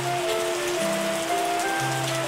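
Rain in the video game Terroir, a steady synthetic hiss of rainfall layered with sustained musical tones that shift pitch, continuous and fairly loud with no voices.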